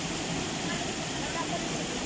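Free-flowing water rushes steadily in a stream at Casiguran, Sorsogon, making a dense, even wash that fills the whole moment, loud and close with no break.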